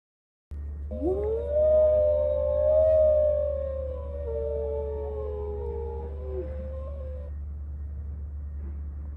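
A gray wolf's howl played from a zoo soundboard: one long, smooth, sustained howl that rises, holds and slowly fades, with fainter harmonies beneath, heard alone over a low electrical hum.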